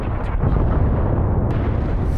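Tank cannon fire and explosion in the World War II strategy game Gates of Hell: Liberation, a loud sustained low rumbling blast that rolls on for the whole stretch, with a sharp crack near the middle.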